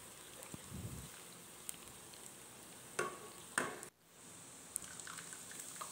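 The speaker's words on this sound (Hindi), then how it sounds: "ताकि सब्ज़ मिर्चें भी प्याज के साथ साथ फ्राई हो जाएं" Onions and chopped green chilies frying in a karahi for mutton karahi, stirred now and then, with a low steady sizzle and a few sharp scraping stirs close by.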